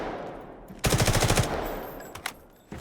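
A short burst of automatic gunfire in the video game Delta Force, roughly a dozen rapid shots in about half a second, loud and close, followed by a couple of faint clicks.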